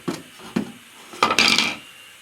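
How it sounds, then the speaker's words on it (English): A pry bar works baseboard trim loose from a sheetrock wall. Two short wooden knocks come first, then a louder scraping, creaking burst as the trim pulls away, all close and without talk. "Get your pry bar in there. Trim should come off fairly easy."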